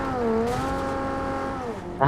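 An engine drones steadily in a driving video game with sticky bombs and bikes, its pitch rising and falling like a car revving while moving, with a sharp burst at the very end.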